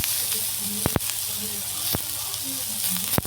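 Onion stalks sautéing in a pan for a river fish curry, a steady close sizzle with a few sharp clicks of stirring across the pan.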